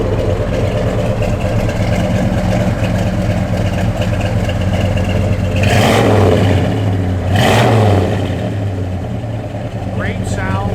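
A 1969 Chevrolet Chevelle SS engine idles with a loud, lumpy low rumble, then gets two sharp revs that rise and fall, with a brief higher squeal near the end.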